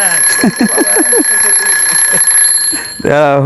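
An alarm clock ringing loudly and close, a steady electronic tone with rapid repeating beeps, under a voice talking in short bursts until it cuts off near the end.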